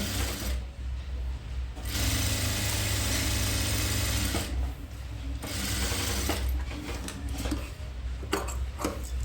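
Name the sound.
sewing machine stitching dress lining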